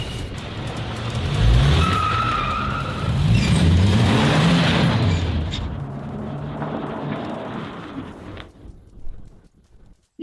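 The Yi family's car pulls up with a loud, rushing engine and tire noise over the first few seconds. It fades and settles into near quiet, broken by a few soft knocks.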